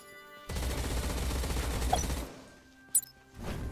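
Rapid automatic gunfire from the video game Quantum Knights rattles loudly and continuously for nearly two seconds, then cuts off, followed by quieter ambient rumble and a brief sharp blip.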